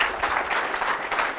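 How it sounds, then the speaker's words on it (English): Brief, steady applause from an audience at a talk on web gaming, a close wash of many hands clapping for just over a second. "Yeah, applause. Yeah, clap it up."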